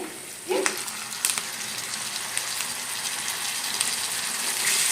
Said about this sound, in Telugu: ఒక్కసారి మీడియం ఫ్లేమ్లో ఒక 1 మినిట్ ఫ్రై చేసుకుంటే సరిపోతుంది ఫ్రెండ్స్